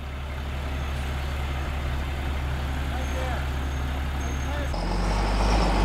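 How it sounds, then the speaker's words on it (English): A heavy gravel truck rolls in to dump a bed of gravel for a shipping container on a rural northern Arizona homestead, its steady low diesel rumble continuous and swelling louder near the end as it comes closer. "The gravel truck finally made it."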